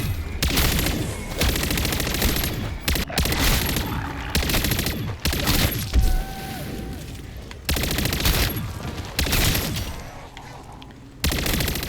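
Rapid automatic gunfire from a silenced SMG in Call of Duty's Vortex Death's Lair mode, dense bursts filling most of the stretch with brief gaps between volleys, steady and loud, with in-game effects and some faint voice beneath.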